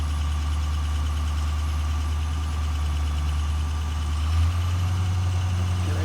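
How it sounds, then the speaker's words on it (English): Air-brake truck engine idling during a brake test, a loud, steady low rumble with a slight rise in pitch near the end as the revs lift, no speech. "Now I start the engine."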